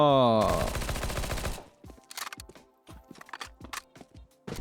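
Rapid automatic fire from a P90 submachine gun in Counter-Strike 2, a dense loud burst lasting over a second, then a series of sharp mechanical clicks and clacks of the reload.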